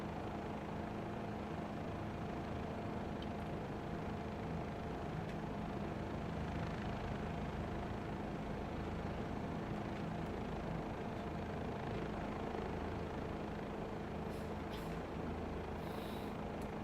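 A Bell 407 helicopter in a PSVR 2 flight game over Los Angeles, a steady low engine and rotor drone that holds at an even, moderate level throughout with no speech.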